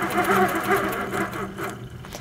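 An HQ Sweet Sixteen sewing machine stitches under foot-pedal control, its motor whirring in a steady rhythmic hum that speeds and slows slightly, close and clear with no talk.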